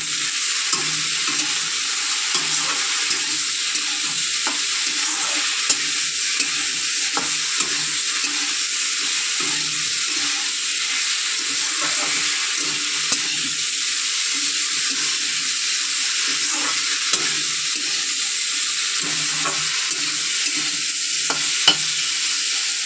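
Food fries in a pan with a little salt and turmeric, a steady sizzle with intermittent stirring scrapes and clinks, close and continuous, no voices.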